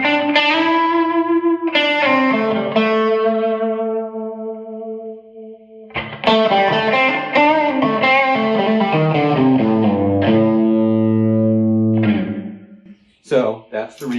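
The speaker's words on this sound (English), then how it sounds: "so that's the reverb. Simple delay." An electric guitar runs through a Line 6 Helix in a Mesa Boogie amp's effects loop, its reverb and simple delay on: loud sustained notes and chords ring out in two phrases, each trailing off in washy, echoing tails.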